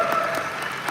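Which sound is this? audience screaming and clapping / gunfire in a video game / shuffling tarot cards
audience screaming and clapping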